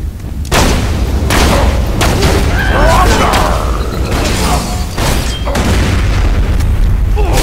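Grenade explosions from the video game Borderlands 2 go off as repeated heavy booms amid gunfire and combat noise, loud and dense throughout, with a voice talking over the chaos.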